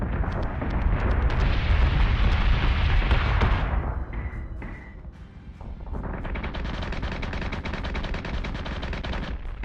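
Heavy gunfire from space battleship batteries in the game Battlestar Galactica Deadlock, a dense rumbling barrage that dips briefly into quieter shots before the loud rapid fire resumes.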